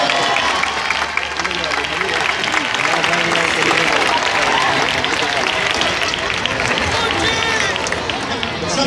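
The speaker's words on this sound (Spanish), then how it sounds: "¡Un fuerte aplauso!" Crowd applauding and cheering at an outdoor heifer release festival in Melilla, loud dense clapping mixed with crowd noise and voices talking over it throughout.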